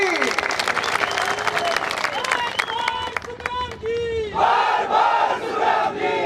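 Loud crowd at a BJP political rally where a Union minister is speaking, cheering, shouting and clapping continuously, with one surge of massed voices near the end.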